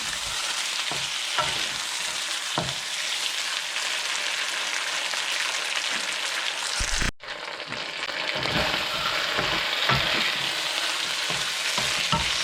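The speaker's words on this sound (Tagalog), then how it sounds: "So medyo lutuin natin yung tomato sauce." Tomato sauce sizzles and fries steadily in a pan for chicken asado, a continuous loud crackle with a brief break partway through, then carrying on with occasional stirring scrapes.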